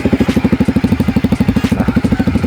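A Kawasaki Ninja 250 RR Mono single-cylinder engine on its stock exhaust idles up close with a steady, loud, evenly spaced thumping pulse and a slightly raspy edge. There is no talking.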